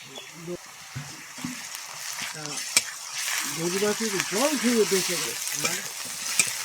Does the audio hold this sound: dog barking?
no